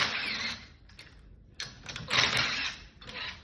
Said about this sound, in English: We'll take these three bolts, or three nuts off.